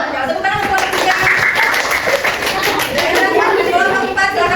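Schoolchildren in a classroom clap together for a group of classmates, a steady dense patter of small hands with chatter mixed in, filling the room throughout.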